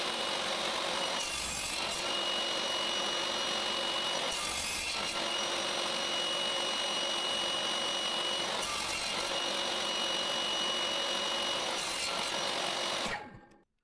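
A table saw cuts round bowl blanks from wood, its loud, steady whine running continuously with brief changes in tone as the blade bites, then spinning down abruptly at the end.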